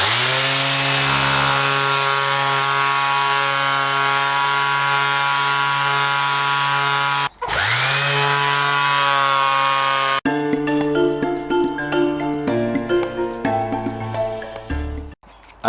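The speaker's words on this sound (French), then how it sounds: "voilà pour cette ponceuse Makita Digivolt, la DBO 180" A Makita DBO180 cordless random orbital sander whirs with a steady high-pitched motor tone, winds down briefly, restarts, then shifts as it works against a surface.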